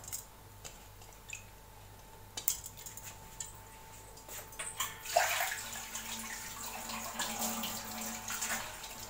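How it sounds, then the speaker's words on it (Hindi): Washed masoor dal pouring and rattling into a pressure cooker, with scattered clinks and a soft watery rush that swells midway and continues at close range, no talk. "ये मैंने प्रेशर कुकर ले लिया है, इसमें मैं डाल दूँगी दाल।"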